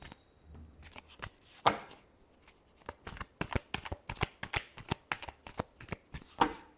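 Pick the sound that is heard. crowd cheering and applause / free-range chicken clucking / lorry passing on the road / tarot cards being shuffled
tarot cards being shuffled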